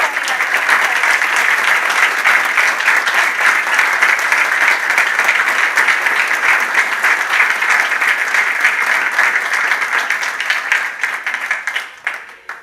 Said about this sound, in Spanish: un aplauso a todos los nuevos másteres en Dirección de Marketing y Comunicación